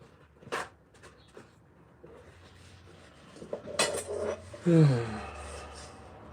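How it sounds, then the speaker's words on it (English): Someone scrubs a pan around the riveted handle, producing rough scraping strokes and sharp metallic clinks that build to a louder burst of scrubbing near the end. "Cleaning around those rivets for the handle."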